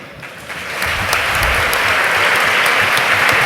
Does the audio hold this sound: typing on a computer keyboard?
no